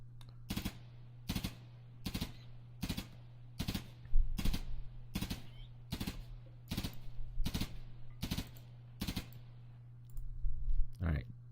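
A RimWorld colonist shooting at animals: a dozen crisp, evenly spaced gunshot clicks over a low steady hum, with a voice briefly talking near the end.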